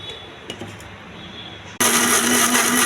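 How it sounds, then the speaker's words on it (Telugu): A mixer grinder kicks on sharply and runs loud and steady, blending peeled banana for juice. Before that comes a short stretch of low kitchen noise with a few small clicks. "అరటిపండు తోలు తీసి మిక్సీలో వేయాలి."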